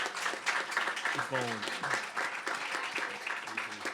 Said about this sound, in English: Clap it up for her, man.